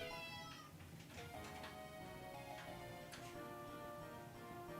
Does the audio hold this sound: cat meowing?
yes